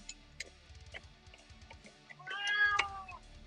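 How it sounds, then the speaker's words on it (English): A hungry deaf cat meows indoors, one loud drawn-out complaining meow standing out over soft ticking and faint clicks. "my deaf cat is making a bunch of noise because she's probably hungry"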